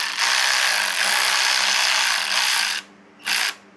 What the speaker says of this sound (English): So we're gonna use the ratchet to get